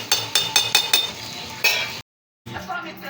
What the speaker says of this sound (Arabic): هحط كل التتبيله دي هنا واديها تقليبه واغطيها